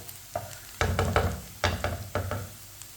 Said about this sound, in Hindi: प्याज को मैंने हल्का सा ब्राउन कर लिया है।